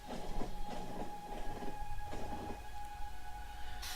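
A supply train runs along its track in the video game Factorio, a steady rolling rumble with rhythmic clacking bursts and faint tonal hums, heard alone at low level.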